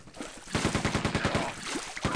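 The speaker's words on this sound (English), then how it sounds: "this is the machine gun. I actually really like this weapon. It's pretty fast firing and fairly accurate." Machine gun fire in Quake 2, a fast, even rhythm of about a dozen sharp shots in quick succession, close and fairly loud, with no voice over it.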